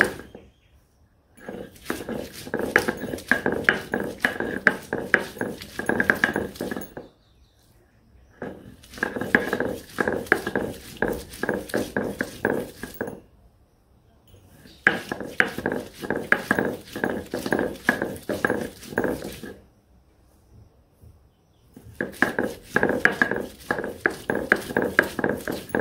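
Onion, garlic, ginger and green chilli being ground into a paste in a village kitchen, heard as rhythmic rubbing and scraping strokes in bursts of several seconds, separated by short pauses, with no talking.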